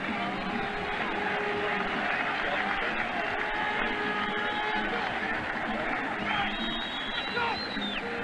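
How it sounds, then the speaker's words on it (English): A large stadium crowd at a CFL football game applauds steadily with a broad, continuous wash of clapping and murmuring, some distant whistles and cheers rising over the din. "Fans reacting now with a round of applause for Derek Beattie."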